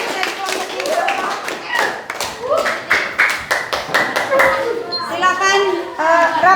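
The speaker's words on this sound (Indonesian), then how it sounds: "Tepuk tangan." A classroom of seventh-grade students claps together in quick, uneven bursts, loud and close, with children's voices chattering and calling out over the applause.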